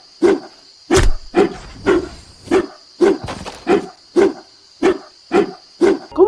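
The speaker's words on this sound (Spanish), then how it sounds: "El siguiente pico es de la skin de perro, es un hueso completamente dorado," A dog-skin pickaxe in a video game, a fully golden bone, strikes eleven times in a steady rhythm, each hit a short, sharp, bark-like thud with a bright ring, loud and close with nothing else around it.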